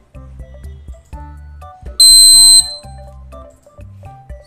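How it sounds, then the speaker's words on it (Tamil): A piercing electronic beep alert from an industrial machine fault detection system, flagging an oil leak, blares once for about half a second over a quieter run of short tonal electronic sounds. "தென் பீப் சவுண்ட் வந்து நமக்கு வந்து அலர்ட் ஆகிட்டு"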